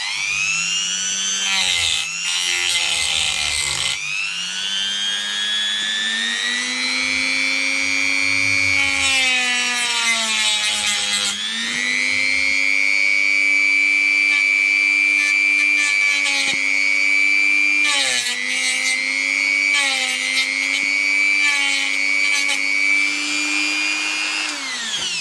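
A multi-tool trims a key in a long, steady, high-pitched whine that sags and rises in pitch as the load changes. Harsher grinding bursts come and go over it, close up, with no talking.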